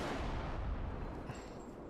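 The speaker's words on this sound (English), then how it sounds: "You don't just hear the indoor gunshot." Indoor gunshot in the Bodycam video game, a loud dense blast with a rumbling, roaring wash of air pressure escaping outside that stays loud for nearly two seconds.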